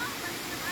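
Waterfall rushing as a steady broadband roar, fairly close and continuous through a very short moment, with a voice faintly present.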